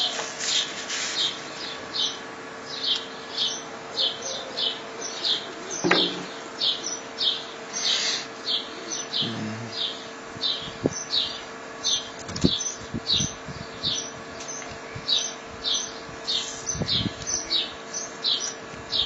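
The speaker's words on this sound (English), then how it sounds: "Birds are in full bloom right now." Birds chirp outdoors in a steady, repeating series of high tweets across the whole stretch, with occasional rustling and handling noises nearby during citrus grafting.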